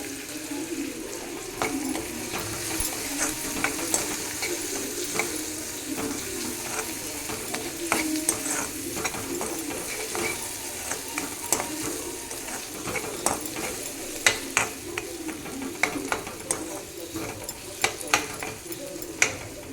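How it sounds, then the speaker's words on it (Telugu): Onion pieces for a kusuma leaf curry sizzle steadily in a pan with turmeric, quiet frying broken by intermittent stirring scrapes and utensil clinks. "పచ్చి వాసన పోయే వరకు వేయించుకోవాలి."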